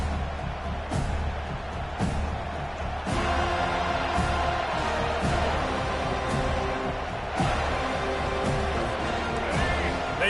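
Stadium crowd at a college football game involving the Seminoles roars in a loud, sustained wash of cheering, with swells and sharp accents rising over the continuous din.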